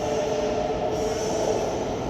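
A train pulls into a platform at London St Pancras International, a steady close rolling rumble with a faint high whine of wheels, loud and unbroken.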